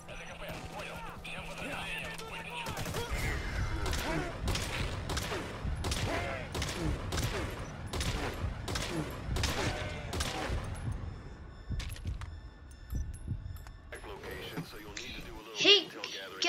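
Gunfire in Metal Gear Solid V, a rapid run of sharp shots striking a target, fairly quiet under a voice talking throughout, trailing off into mechanical clatter.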